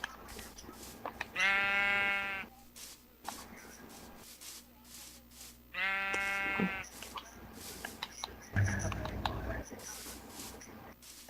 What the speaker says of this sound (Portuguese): Só ouve ovelha nessa merda, né?